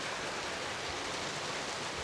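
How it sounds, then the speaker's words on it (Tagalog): Heavy rain pouring steadily outdoors, a dense, even hiss of falling water with no pauses and no voices. "Ang lakas mo na ulan ah."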